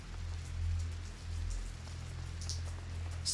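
Steady rainfall patters on surfaces in the video game A Plague Tale: Innocence, a continuous soft hiss with a low rumble beneath and a few brighter drips, moderately quiet and without voices.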